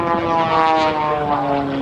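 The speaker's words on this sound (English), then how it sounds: "he snaps the airplane 3 times to the top" A propeller aerobatic airplane at an airshow, performing a triple snap roll, roars with a steady loud engine drone and buzzing harmonics that waver slightly as it maneuvers, heard alone without voices.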